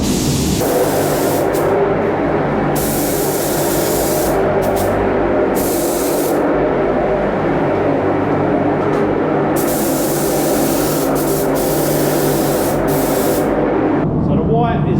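Spray paint hisses onto the white RC car body shell in long, continuous bursts close to the microphone, each broken by brief pauses.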